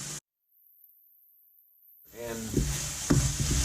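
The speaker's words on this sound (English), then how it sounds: "The spices are in, the lemon's in. Just going to stir that around." A spoon stirs Moroccan stew with spices and lemon in a pot, a soft scraping and sizzling stir that starts after a stretch of near silence and grows louder with a few sharp clinks.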